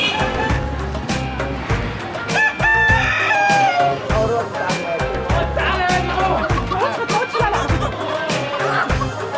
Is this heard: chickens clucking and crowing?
yes